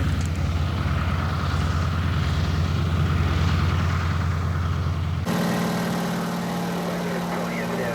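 A ski-equipped supply plane near Denali base camp in Alaska, its engine droning steadily and loudly throughout, the tone shifting abruptly partway through as propeller pitch or position changes.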